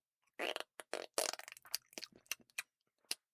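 A person imitates a fart with the tongue and the floor of the mouth, making a string of short, wet, sputtering bursts of uneven length, close up with silence between them.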